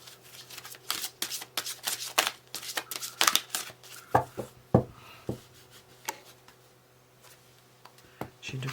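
Tarot cards are shuffled and laid down in a quick run of crisp riffling snaps and flicks, close and clear, thinning to a few isolated card taps near the end.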